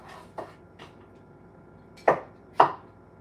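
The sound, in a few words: chopping peeled citrus fruit for the blender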